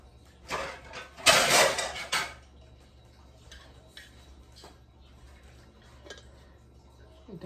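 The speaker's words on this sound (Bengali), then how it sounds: "একটা ঢাকনা দিয়ে দিব।" A metal lid is set down onto a cooking pan over resting paratha dough, giving a loud clatter and rattle that settles within a second or two, followed by a few faint kitchen clinks.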